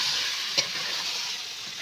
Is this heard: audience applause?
no